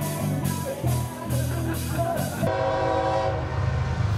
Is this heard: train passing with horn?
yes